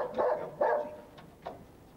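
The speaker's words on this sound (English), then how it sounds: "A training course for Essex Police sniffer dogs." A police sniffer dog on an Essex Police training course barks three times nearby, two quick close barks followed by a softer third, with no talking.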